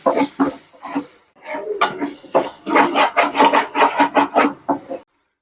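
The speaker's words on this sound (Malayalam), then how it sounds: "നല്ലതായിട്ടൊന്ന് മിക്സ് ചെയ്യാം." Spices, including meat masala, being stirred into a chicken pasta sauce in a pan, giving a steady run of close scraping and rubbing strokes with a brief lull early on.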